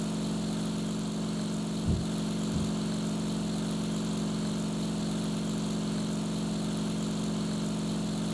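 Propeller engine of a Ki-84 fighter in the flight game IL-2 Sturmovik, a steady, unbroken droning hum at constant pitch and level throughout, with a couple of faint low thumps early on.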